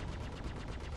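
A Pyroburst Plasma Scattergun, a size 3 weapon in Star Citizen, fires in rapid close-spaced bursts, a dense rattling volley that fills the whole moment.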